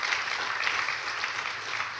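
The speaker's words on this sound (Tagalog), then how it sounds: "isang palakpak para sa Diyos" A church congregation applauds, a dense, even wash of many hands clapping. It is moderately loud and steady for the whole stretch with no pause.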